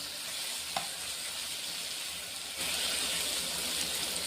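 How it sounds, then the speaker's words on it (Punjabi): Tomato fries and is stirred in a pan as the base for a pumpkin curry, giving a close, continuous sizzle with a sharp scrape of stirring and a slightly louder stretch toward the end. "ਟਮਾਟਰ ਆਪਣਾ ਚੰਗੀ ਤਰ੍ਹਾਂ ਭੁੱਜ ਚੁੱਕਾ ਜੀ"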